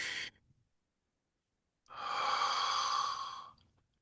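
A slow, breathy exhale, then a silent pause and a longer airy breath out, soft and close with no talking.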